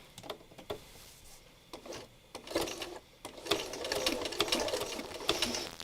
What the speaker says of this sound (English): And I'm going to zigzag stitch